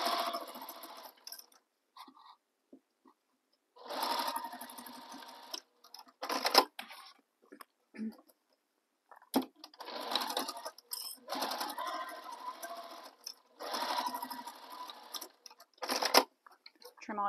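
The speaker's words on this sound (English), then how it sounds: "We need to sew the bottom and top edge of our pocket. So baste them together." A domestic sewing machine bastes the top and bottom edges of a tote bag pocket in several short whirring bursts separated by quiet pauses, with small clicks and handling sounds between runs.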